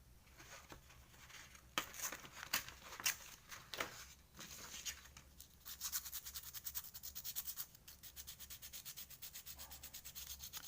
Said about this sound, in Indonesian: Kita haluskan menggunakan amplas.